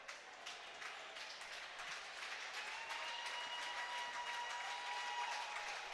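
Steady crowd applause fills a high school basketball gym during a fourth-quarter substitution at a conference semifinal, sustained at an even level throughout with no talk over it.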